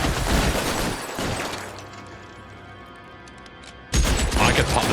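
Pistol gunfire and action noise from the video game L.A. Noire, a loud dense burst at the start, a quieter stretch in the middle, then another loud blast near the end, with no talking.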